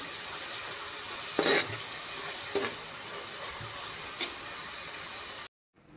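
Onion frying in oil in a pan makes a steady sizzle, with a few short scraping clatters as it is stirred, before cutting off at the end; no talking.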